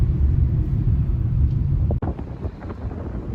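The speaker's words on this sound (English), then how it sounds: "Hopefully you can hear me over the wind" Steady low roaring wind gusts buffet the microphone throughout, with a brief dip and a few scattered knocks and rustles in the second half.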